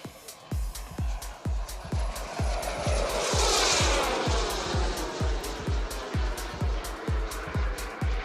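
An airshow airplane makes a fast downwind pass, a loud rising and falling roar with a sweeping whine, over a regular rhythmic thumping that pulses steadily across the whole pass.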